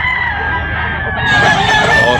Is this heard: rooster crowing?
yes